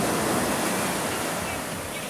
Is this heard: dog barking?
no